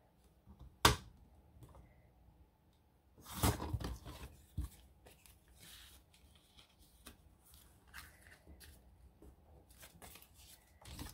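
Scissors cutting paper while making a small envelope journal, a few sharp separate snips and rustles spaced across a quiet stretch, close and fairly faint.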